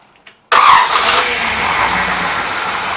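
A 1961 Oldsmobile 394 V8 on a test stand cranks briefly and fires right up, settling at once into a loud, steady idle.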